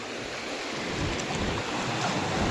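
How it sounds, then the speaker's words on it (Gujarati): Sea waves wash ashore on a beach, making a steady broadband rush of surf that swells slightly louder toward the end, with wind noise on the microphone. "આખો દરિયો છે મિત્રો જોઈ શકો તો પાણી આવે છે"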